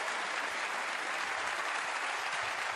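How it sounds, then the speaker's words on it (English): A crowd at the snooker World Championship at the Crucible applauds in a steady, dense, sustained burst of clapping that fills the hall throughout, with no voices above it. "the crowd giving him every encouragement"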